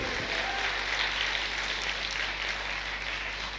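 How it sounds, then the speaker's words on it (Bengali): A church congregation claps together in praise during a Bengali sermon, a dense steady wash of applause filling the space for several seconds before it fades slightly at the end. "জোরে একবার প্রভুর জন্য করতালি দিই"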